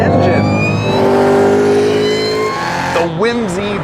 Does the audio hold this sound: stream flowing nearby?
no